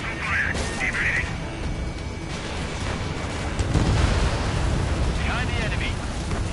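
Missiles fire during a jet dogfight in the PS4 game Ace Combat 7: Skies Unknown, a heavy roaring rumble that swells midway and carries on, with brief radio-like voice fragments over it.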